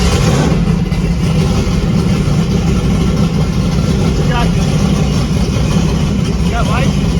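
A carbureted 1,000-horsepower turbo LS engine in a truck runs loud and steady at a rough idle, a dense continuous rumble with no break, and faint chirps ride on top of it.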